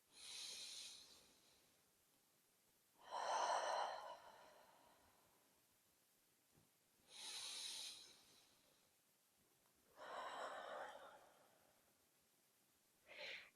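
Slow, deep breaths drawn in through the nose and let out through the mouth during a seated yoga stretch, four quiet airy inhale-exhale swells with soft hissing exhales, close and calm, no talking.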